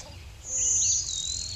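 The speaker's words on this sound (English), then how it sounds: "So there's a blue wing warbler." A blue-winged warbler gives a short, high, buzzy song of about half a second, thin and fairly clear over a faint low hum.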